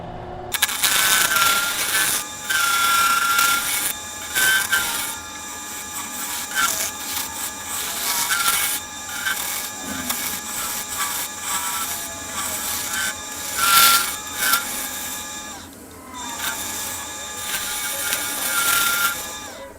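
Close, continuous scraping and rubbing of sandpaper against the inside of a turned acrylic and cedar bowl, rising and falling in strokes over a low steady lathe motor hum.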